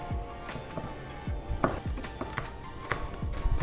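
A knife cubing ingredients for turkey burritos on a cutting board, repeated close thuds in an uneven chopping rhythm, moderately loud and without talk.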